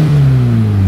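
Volkswagen Beetle with a crate motor accelerating, a loud, close engine tone rising steadily for under a second, with no talking.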